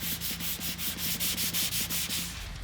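Rhythmic back-and-forth hand sanding scrapes the clear finish off a wooden cabinet, with strokes that are close, steady and evenly spaced, and no voices.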